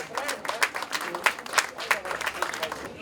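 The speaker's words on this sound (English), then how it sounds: "let's have a round of applause and a standing ovation for New York State Senator Anna Kaplan." Applause and a standing ovation from a gala audience, steady dense clapping with rhythmic swells that carries through the full three seconds at moderate level.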